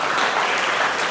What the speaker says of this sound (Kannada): ಗಂಗೋತ್ರಿಗೊಂದು ಜೋರಾಗಿ ಚಪ್ಪಾಳೆ ತಟ್ಟಿ.